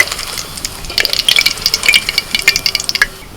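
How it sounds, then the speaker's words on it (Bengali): Eggs frying in a pan, a crackling, bubbling sizzle with rapid popping spatters that grows busier midway, close and fairly loud with no talking. "এরকম লাল লাল করে ভেজে নিতে হবে"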